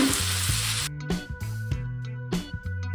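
Fried potatoes tumble into hot masala in a pan, setting off a loud, steady sizzle with a few clanks and stirring knocks as they land.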